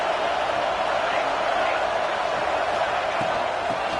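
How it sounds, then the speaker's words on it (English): Stadium crowd at a football game roaring steadily to fire up the defense before a red zone stop, a dense, sustained wash of cheering with no break. "This crowd is trying to inspire this defense to make a big red zone stop."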